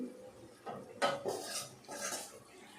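Lid lifted off a pot of Bengali chicken curry cooking on medium-low flame, a few close metallic clanks and scrapes of cookware with faint sizzling, no speech.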